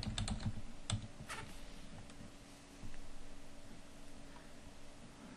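Keys clatter on a computer keyboard while text is entered in photo-editing software, a quick burst of clicks at the start followed by a few scattered taps over steady background hiss.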